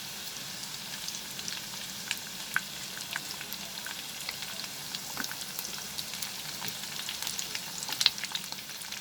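Onion frying with chopped ginger and garlic in a pan for chilli soyabean, a soft, steady sizzle with faint crackles and occasional pops, fairly quiet and close, and no one speaking.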